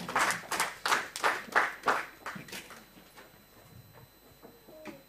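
Congregation in a church bursts into rhythmic clapping, a series of strong hand-clap waves at first that thin out and fade to scattered claps and room murmur.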